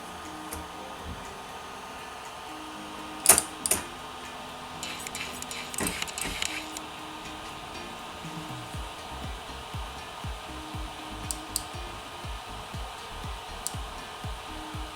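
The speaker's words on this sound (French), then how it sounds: "on va refaire le test pour savoir le débit sonore que l'imprimante fait" An Ender 3 3D printer fitted with a 1.1.5 mainboard runs quietly, giving a low steady hum with faint motor tones and a few sharp clicks near the start, with no voices.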